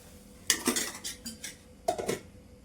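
A utensil scrapes and clinks against a pan while veg manchurian fries. Two clusters of close metallic scrapes and knocks are heard, with quiet gaps between them.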